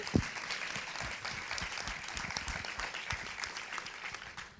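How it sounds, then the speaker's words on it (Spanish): An audience at a panel forum on women and migration breaks into steady, dense applause that holds evenly throughout and is heard from a moderate distance. "Hay ganas de aplaudir."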